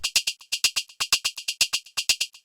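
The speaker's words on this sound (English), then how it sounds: "these sound way too robotic" Unprocessed percussion loops tick along in a rigidly even, mechanical pattern of bright, crisp, hi-hat-like hits with little low end, quiet and repetitive, with no talking.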